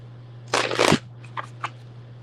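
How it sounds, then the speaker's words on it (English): A deck of tarot-style cards being shuffled by hand: one loud riffling burst lasting about half a second, then a few light, brief card taps and flicks, heard close over a steady low hum. "I just gotta shuffle this again."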